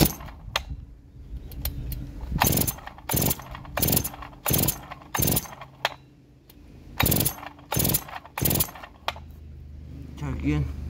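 A Farmertec G366 chainsaw is pull-started repeatedly, with about ten sharp, evenly spaced rips of the starter cord that do not catch into a running engine. A brief buzzy sputter comes at the very end.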